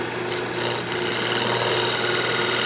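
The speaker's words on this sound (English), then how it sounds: "So we'll just turn the lathe back down and sand up the lid now." A wood lathe spins a maple box with a loud, steady motor whine and hum that holds constant throughout.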